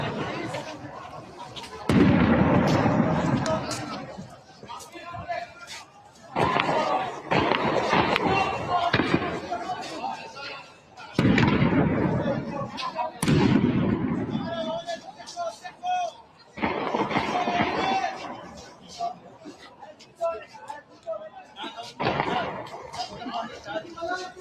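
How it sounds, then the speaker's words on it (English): Explosions go off in Baghdad near the US embassy in the Green Zone, heard as repeated heavy booming blasts at irregular intervals, each followed by rumbling decay, with voices in the background. "you can see that those explosions going off"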